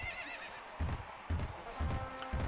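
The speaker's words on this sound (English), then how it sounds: "The horses are on the track." Horses in the video game Gallop Racer 2004 give a whinny, followed by a rhythmic run of hoof clip-clops, close and distinct, over light game background sound.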